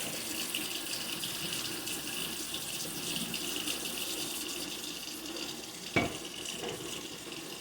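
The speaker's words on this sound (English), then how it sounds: "My first step is to wash with soap and water." Water runs steadily from a kitchen sink tap in a small kitchen, a constant close hiss with one brief knock partway through and no talking.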